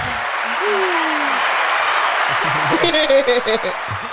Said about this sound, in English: Let's give you guys our version of flowers here with applause.